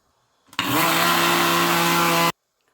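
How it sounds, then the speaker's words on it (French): A blender grinds sesame seeds in one loud, steady burst of under two seconds, starting and stopping abruptly with near silence before and after. "Je vais mixer mes graines de sésame."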